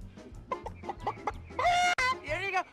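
A man imitates a chicken with his voice, a rapid series of clucks that builds into a longer squawking crow, close and loud, with laughter-like bursts around it.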